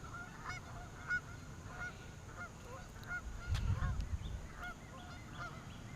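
Geese honk repeatedly in the distance, a scattered chorus of calls over a low rumbling background.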